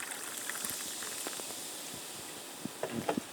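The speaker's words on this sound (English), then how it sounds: "you pour in the club soda, low sodium" Low-sodium club soda poured into a mug fizzes with a steady, soft carbonated hiss and scattered tiny pops, fairly quiet and close.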